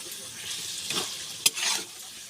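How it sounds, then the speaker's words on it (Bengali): Spices stirred in a hot frying pan, a close sizzle with a few scraping stirs and one sharp clack of the spoon against the pan, no talk over it. "এবার একটু নেড়ে নেব।"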